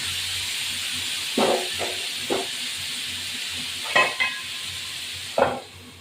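Potatoes fry in a pan with a constant hissing sizzle, joined by a few brief louder clatters and scrapes as they are stirred.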